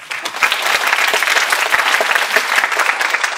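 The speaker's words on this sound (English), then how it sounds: "So give yourselves a round of applause." New students at a university orientation applaud themselves, a close, loud burst of brisk clapping with distinct individual claps popping out over a continuous roar.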